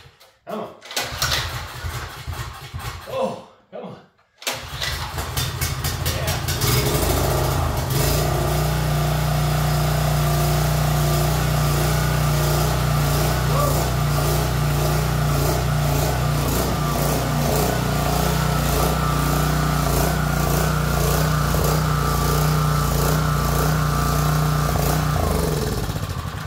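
A small go-kart engine on a converted moving dolly, choke on, sputters through a few rough tries, then catches and settles into a loud, steady, close-up running drone.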